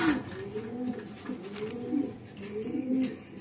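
Three rolling pigeon coos sound close by on a pigeon farm, evenly spaced with soft background noise and no voices.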